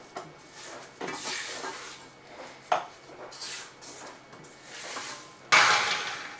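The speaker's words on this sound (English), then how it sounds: "Scrape this down, make sure we got everything in there." A spatula scrapes down the sides of a mixing bowl of lemon lavender cake batter in quiet, separate strokes, with soft clunks against the bowl between passes.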